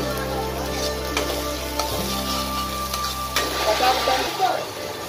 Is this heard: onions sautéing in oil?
yes